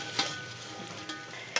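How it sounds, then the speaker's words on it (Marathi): Crabs sautéing in a pan for a crab curry, with soft frying and stirring noises and a few sharp scrapes or clinks of a utensil against the pan, close and fairly quiet. "खेकडे थोडेसे असेच परतून घेऊ."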